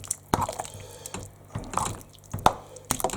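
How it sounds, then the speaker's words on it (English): A pot of food being stirred, with wet slopping and dripping sounds and several sharp clacks of a utensil or lid against the pot at irregular intervals, close and moderately loud, with no talking. "I'm going to give it a stir and put the lid back on"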